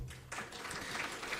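Audience applause welcoming a speaker at an academic conference on infectious diseases, a faint, even patter of clapping that swells after a brief quiet start and carries on steadily.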